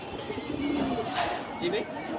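Pigeons, a silver and a mottled pair kept for breeding, coo softly in a few low, drawn-out calls beneath steady background chatter and voices.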